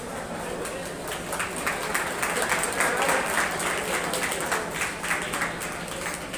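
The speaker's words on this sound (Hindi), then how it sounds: "सभी साथी जोरदार तालियों से मंत्री जी का स्वागत करें" A crowd at a welcome gathering applauds loudly for the arrival of Haryana's development and panchayat cabinet minister, dense sustained clapping with rhythmic pulses swelling in the middle, a few voices mixed in.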